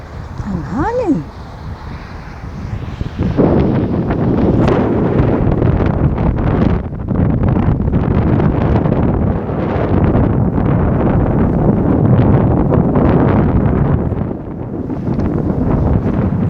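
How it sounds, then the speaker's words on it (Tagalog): Strong wind buffets the microphone outdoors in a steady, loud roar for most of the stretch, with a voice briefly heard near the start. "Ang hangin."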